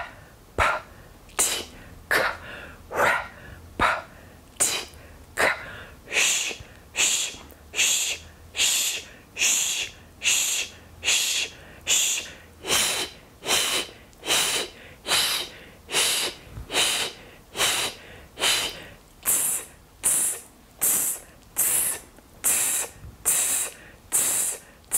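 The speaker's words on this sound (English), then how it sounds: "this is a breath pulse exercise" A voice doing a breath pulse vocal exercise, forcing short sharp breaths out from the belly in a steady rhythmic train of about two per second, close and clear with no other sound.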